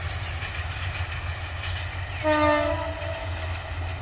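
A train runs through a village in Mymensingh at sunset; a steady rumble of the cars carries throughout, and a tonal horn sounds briefly partway through, loud and fairly close, with no voices.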